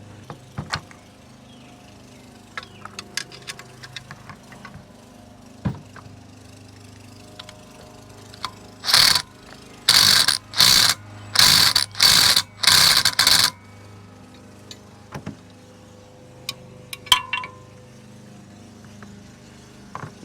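A torque wrench ratchets in a quick run of loud, rapid clicking bursts while snugging a nut on an AMP Research BedStep2 truck bed side step, with quieter workshop noises before and after.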